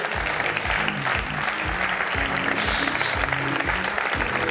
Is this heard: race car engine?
no